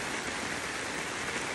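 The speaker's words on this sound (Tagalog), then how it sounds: "Lakas-lakas ang ulan eh." Heavy rain pours steadily as a dense, continuous hiss of drops on surfaces, loud and close throughout, with no voices.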